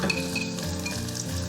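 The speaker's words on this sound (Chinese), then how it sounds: "然后先下5花肉煸炒" Pork belly stir-fries in a little shallot oil inside a clay pot, a continuous close sizzle with stirring scrapes running throughout.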